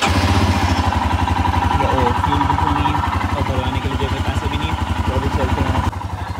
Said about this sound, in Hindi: पहले तो बाइक स्टार्ट कर लेते हैं।